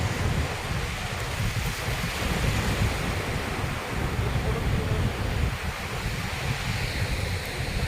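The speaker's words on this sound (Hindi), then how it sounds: "और देखिए पानी की लहरें कितनी तेजी से आ रही हैं," Surf rushes and crashes steadily with a broad roar, mixed with gusty wind noise against the microphone.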